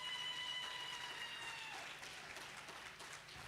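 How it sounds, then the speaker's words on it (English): A round of applause at the opening of a digital hub in Soweto, a soft, distant wash of clapping from a gathered crowd, fairly faint and fading slightly toward the end, with a faint steady tone beneath. "Let's give Mr. Sebe as well a round of applause."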